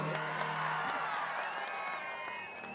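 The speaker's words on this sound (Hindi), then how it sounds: "एक बार जोरदार तालियां ये साइड के लिए।" A crowd at the Bhoramdev Mahotsav 2022 stage show claps and cheers in a dense, steady roar that fills the whole stretch and eases slightly toward the end.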